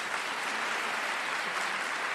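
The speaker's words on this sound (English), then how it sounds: "Where's the applause at?" Steady, quiet wash of applause from an audience on a tech podcast, continuous and even throughout with no voices over it.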